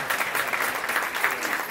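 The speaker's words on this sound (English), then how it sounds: "So please give them a big round of applause." Moderate applause from an audience at a prostate cancer awareness fashion show, a steady wash of clapping at mid level for a short stretch without talk.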